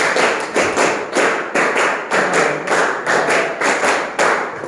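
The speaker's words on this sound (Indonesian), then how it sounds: "tepuk 5 3 kali" A class of students claps five beats three times over, in tight, evenly spaced volleys. The unison claps are loud and near, forming a steady rhythmic pattern with no talking.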